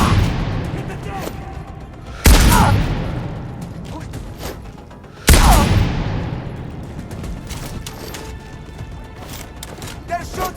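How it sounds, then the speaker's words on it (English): Enemy gunfire in Sniper: Ghost Warrior Contracts 2, with two sharp, loud gunshot blasts a few seconds apart, each trailing into a rumbling echo over a mechanical game ambience. "They're shooting at us!"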